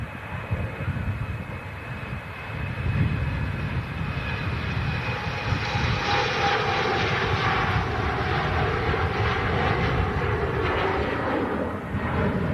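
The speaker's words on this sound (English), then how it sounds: "The Embraer E190." TAP Air Portugal Express Embraer E190 airliner at Manchester Airport, a steady jet roar at moderate distance that swells slightly and holds throughout.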